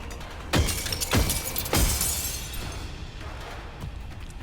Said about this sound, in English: Hammering chips at the wall of crystal, blocking our way. It quickly shatters but reveals nothing on the other side.